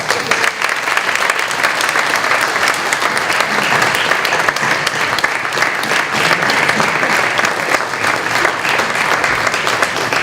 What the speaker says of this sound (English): Turn around and thank your faculty and your families with a warm round of applause.